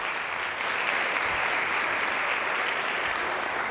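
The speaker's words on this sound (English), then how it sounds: "I just think we should give them another round of applause" A conference crowd gives sustained applause for the panelists, a loud dense wash of clapping hands holding steady for several seconds with no talking over it.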